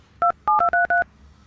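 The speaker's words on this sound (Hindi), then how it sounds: "फिर फोन लगा।" A telephone keypad is dialed, five quick, clear touch-tone beeps in an uneven rhythm, loud and close, with no voices.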